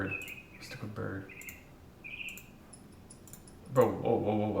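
Short bird-call alarm tone: a few brief chirps and whistles repeat quietly, with clicking and a voice speaking near the end.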